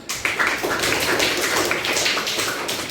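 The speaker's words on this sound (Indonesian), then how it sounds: "Kasih aplaus buat Nur Agni." Applause from students in a classroom during a microteaching lesson, a dense, steady patter of many hands clapping together for the full stretch, loud and close with no talk over it.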